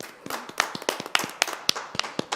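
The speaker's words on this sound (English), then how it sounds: "Didn't expect applause there." A small audience at a town commission meeting claps briefly, a sparse run of distinct, close, sharp hand claps in an uneven rhythm lasting a couple of seconds.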